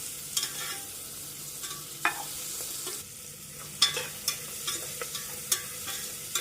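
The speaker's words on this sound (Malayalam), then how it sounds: "നന്നായിട്ടിന് മിക്സ് ചെയ്ത് കൊടുക്കാം" Salted vegetables sizzle faintly in a pan while a spatula stirs them, giving soft repeated scrapes and taps over a low, steady hiss, close by and quiet.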